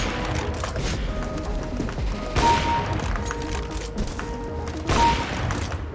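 Bursts of rapid gunfire in a shooter video game, with two louder blasts standing out over a steady, dense wash of game audio and effects.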